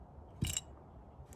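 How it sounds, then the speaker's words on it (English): A box cutter crushes pills on a paper plate, giving a single sharp crunching scrape near the microphone, with a fainter second scrape at the end against a quiet room. "So I'm just using a box cutter to crush these."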